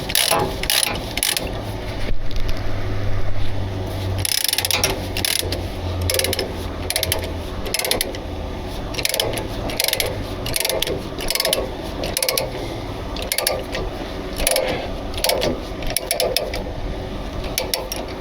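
A ratchet mechanism being cinched tight, close and loud, with rapid repeated clicking bursts and grinding mechanical sounds in uneven spurts.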